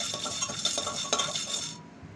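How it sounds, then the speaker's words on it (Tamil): Cowpeas dry-roast in a pressure cooker, stirred with a spoon: a short burst of dry rattling and scraping against metal, close and moderately loud, that cuts off abruptly at the end. "இப்போ ஒரு குக்கரில் நான் இப்போது 1/2 டம்ளர் தட்டாம்பயிரை எடுத்து நல்லா வறுத்துட்ருக்கேன்"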